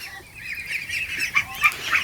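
Farm ducks quack and honk in a few short, scattered calls, growing louder toward the end, over a quiet background.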